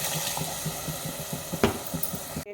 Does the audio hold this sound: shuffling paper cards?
no